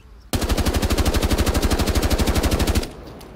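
An Ash automatic rifle in Rainbow Six Siege fires one sustained full-auto burst of rapid, evenly spaced loud shots for about two and a half seconds, then stops abruptly.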